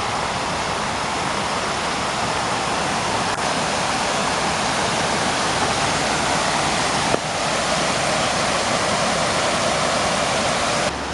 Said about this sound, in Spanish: Por aquí se escucha una cascada.